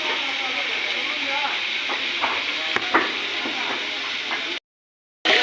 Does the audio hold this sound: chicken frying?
yes